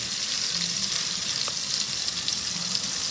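French toast sizzles in melted butter in a pan over medium heat, giving a steady, close crackling hiss throughout with no talking.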